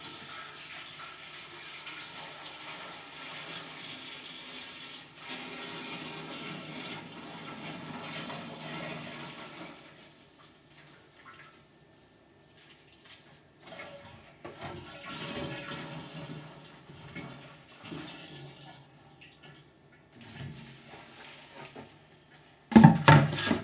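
Six liters of 50% alcohol wash poured into the boiler of a reflux still, a steady broadband splashing stream running for several seconds, fading, then resuming, ending in a few louder knocks.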